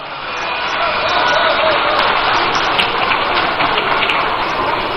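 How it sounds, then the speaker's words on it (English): A large crowd applauding at the NDC 2024 manifesto launch rally in Winneba, a loud, dense and sustained wash of clapping that swells in and holds steady, with faint voices mixed in. "A round of applause for him."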